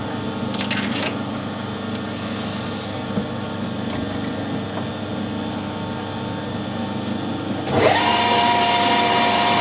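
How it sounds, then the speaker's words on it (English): A steady lathe hum with a metallic cutting whine as it centre-drills aluminium runs throughout, rising into a louder, higher-pitched tone near the end; close and continuous, no voices. "Centre drill it and then bore the hole out to the right diameter."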